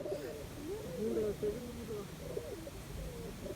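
Pigeons coo softly around a small pigeon house, low repeated throaty rolls at a modest distance, with a voice talking over them.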